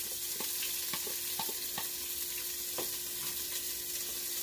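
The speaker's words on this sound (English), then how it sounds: "heat a little bit of cooking oil in the bottom of your pot and put your onion" Onion frying in a little cooking oil at the bottom of a pot, a faint steady sizzle with scattered soft pops and light stirring clicks.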